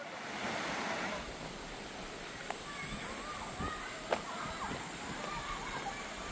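Water rushes steadily through a mountain valley stream with deep wading pools, a constant broad wash with a couple of faint knocks, heard from nearby without talking.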